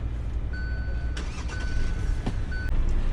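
A 2020 Kia Sonet GT Line being switched on gives a series of clear electronic chime tones, some sustained and some short, over a low steady hum of the cabin, with a few sharp clicks in between.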